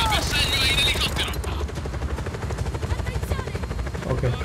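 An enemy helicopter in the video game Just Cause 4 thrums with a fast, steady rotor chop, loud and close, under bursts of gunfire and a voice in the opening moment.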